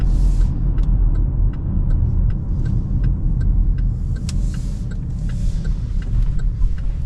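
A 2026 Chevy Blazer Turbo driving, heard from inside as a steady, loud low road and engine rumble with occasional faint ticks and clicks over it, no talking.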